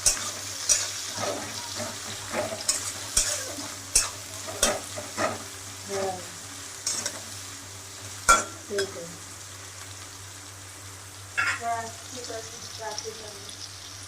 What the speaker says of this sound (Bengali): দেখুন পেঁয়াজটা অনেকটাই নরম হয়ে গেছে এবং একটু ভাজা ভাজা হয়ে গেছে, লাল লালও হয়ে গেছে।